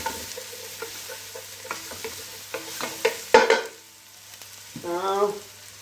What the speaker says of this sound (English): Now you can put the carrots in.